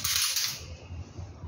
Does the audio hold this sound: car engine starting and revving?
no